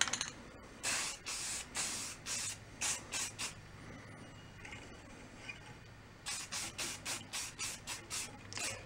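Wax and grease remover hisses from a spray can in quick repeated bursts, a rhythmic run of sprays, a pause, then another series, close and fairly quiet.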